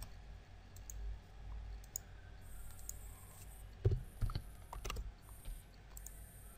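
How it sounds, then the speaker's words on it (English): Keys on a computer keyboard are tapped in quick, uneven bursts of clicks, close but quiet over a faint background hum, with a denser flurry of keystrokes partway through. "now let's type in in.wikipedia.org."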